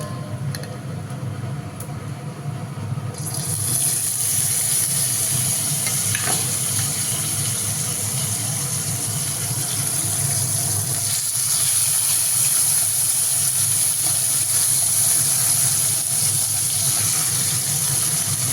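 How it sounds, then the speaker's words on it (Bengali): Onions frying in a pan on a home stove, a steady close sizzling hiss that rises and fills out after a few seconds, then holds constant throughout. "পেঁয়াজটাকে এখন ভাজতে বসিয়েছি।"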